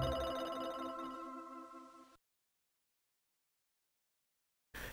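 A mobile phone rings with a bright repeating tone for about two seconds and then goes silent, with a short burst of sound returning at the very end and no one speaking.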